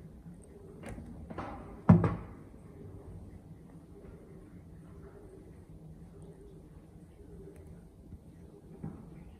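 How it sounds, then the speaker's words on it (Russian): Knocking on a home's front door: a few sharp raps near the start, the loudest cluster about two seconds in, followed by quiet room tone with another faint tap near the end. "слышу, кто-то нам в дверь стучит, да стучит"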